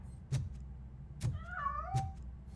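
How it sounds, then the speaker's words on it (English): A cat in the video game RoboCop: Rogue City lets out a rising, wavering meow between three dull, evenly spaced thumps in a quiet indoor scene. "Блин, грёбаный кот."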